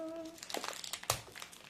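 Crinkly plastic wrapping of a blind box mystery package rustles and crumples in a few quick handling bursts, close and fairly quiet, with no talk.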